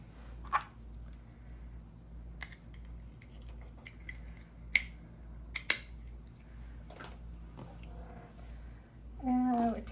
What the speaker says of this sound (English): So I cut off 16 inches of stringing wire